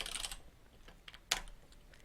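A computer keyboard is typed on while accounting data is entered into tax software, producing a quiet cluster of rapid keystrokes, then a few scattered taps and one sharper key press, close by in a hushed room.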